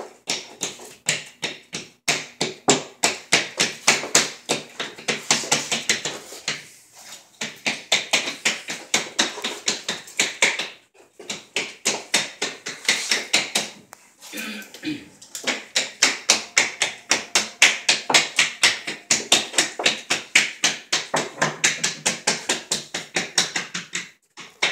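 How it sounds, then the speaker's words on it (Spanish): Block being tapped down to press small shower floor tile pieces into mortar, giving rapid, steady close knocks in long runs with brief pauses, while a person talks over part of it. "lo que vamos a hacer es pues pasar el bloque este, prensarlo, para que todo quede parejo y todos los pedazos agarren el mortero"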